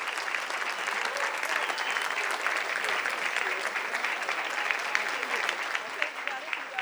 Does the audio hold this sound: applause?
yes